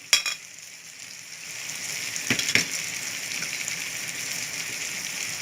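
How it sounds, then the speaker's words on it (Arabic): Sausage with garlic, pepper and spices fries in oil in a pan, a soft steady sizzle with a few brief clatters of stirring, fairly faint and with no talk. "هنقلبهم حبة في الزيت كده ونكمل ان شاء الله"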